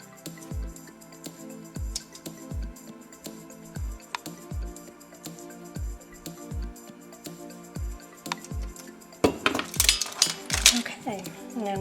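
A spoon or utensil stirs Italian sauce in a metal pot, scraping and clinking in a steady, repeated rhythm close by, then a quicker burst of louder clatter near the end.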